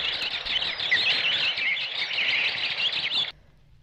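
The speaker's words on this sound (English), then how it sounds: "The quiet is suddenly interrupted by the loud sound of birds escaping." Birds suddenly flying off in a quiet stone courtyard scene from the film Nostalghia, a loud, dense flurry of chirps and tweets for about three seconds that cuts off abruptly into near silence.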